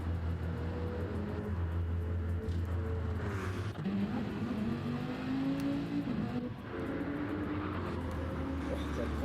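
A racing car engine in a sim racing endurance race at Brands Hatch Grand Prix Circuit drones steadily at a distance, its pitch rising and falling with gear changes, with faint crowd or ambient noise beneath.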